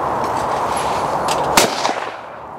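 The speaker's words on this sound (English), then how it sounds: "Gonna do that again, cartridges in, close the gun up. Pull." A hammer-action break-open shotgun fired outdoors at a clay target: a single sharp report cutting through steady loud wind noise, followed by a brief ringing echo.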